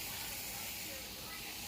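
Onions and garlic sizzling in a pan, a steady broad hiss of frying that holds evenly throughout at a quiet, close level with no talking over it.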